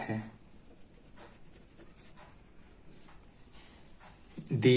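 A pen writing out a class 10 math problem, faint scratchy strokes on paper in short bursts, close and quiet.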